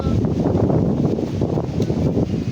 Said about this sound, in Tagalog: Sarap ng hangin dito